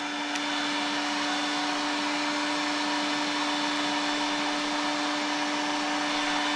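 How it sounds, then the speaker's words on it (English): A heat gun set to high runs steadily while heating craft material for a Halloween mummy puppet costume: a constant, even whirring blower hum with a fixed tone, close and unbroken throughout, with no talk. "what I'm using is a heat gun. I turn it high like this."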